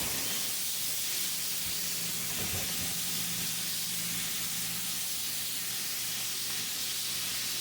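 Ground beef, 80/20 fat, sizzling and hissing in oil in a skillet, a steady broad crackle that holds evenly throughout with no one talking.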